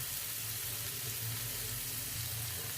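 Potatoes fry in a pan for aloo chaat, giving a steady, even sizzle with low bubbling underneath that holds for the whole stretch, with no voices.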